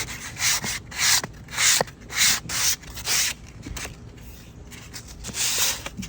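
Repeated back-and-forth strokes of sandpaper rubbing over a wooden rocking chair, close and fairly loud in steady rhythmic bursts with short pauses between passes.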